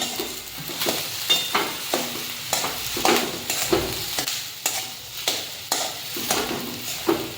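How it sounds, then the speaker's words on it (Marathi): Potato vada filling with chopped coriander being stirred in a pan, giving repeated scraping, squelching strokes in a steady rhythm over a faint sizzle, close and moderately quiet with no talking. "मिश्रण व्यवस्थित मिक्स करून झाल्यानंतर त्यामध्ये बारीक केलेली कोथिंबीर घालून मिश्रण मिक्स करून घेऊ"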